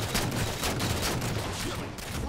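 Rapid gunfire in the shooter video game Halo 4, a dense, loud burst of shots running steadily through the short stretch with no talk.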